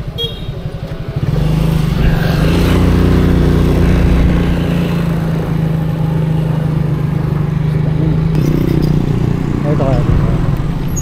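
A motorcycle engine runs close by at a campsite, a steady loud rumble that kicks in after the first second and holds, with people talking nearby.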